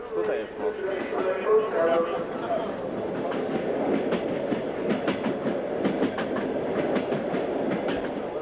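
A train rolls along the rails with rhythmic clickety-clack from the wheels and a steady rumble, heard from inside a carriage at moderate volume.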